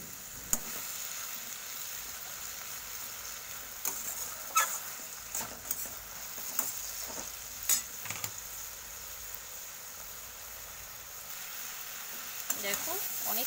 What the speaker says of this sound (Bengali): দেখো অনেকক্ষণ ধরেই কষিয়ে নিচ্ছি